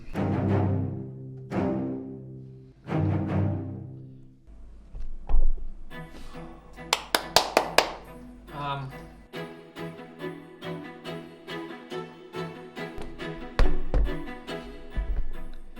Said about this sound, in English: low staccato strings, they will typically sound like this.